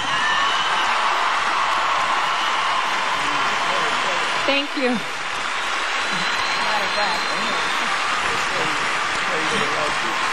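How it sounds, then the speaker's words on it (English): An audience at a Billboard Music Awards tribute applauds in a dense, continuous wash of clapping, loud and unbroken, while a voice briefly speaks midway. "give her a round of applause"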